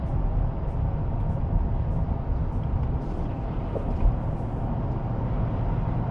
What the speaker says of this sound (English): A little bit of road noise